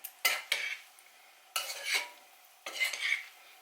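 A metal spoon stirs potato salad in a bowl, giving three short bursts of scraping and clinking separated by pauses, fairly close and quiet.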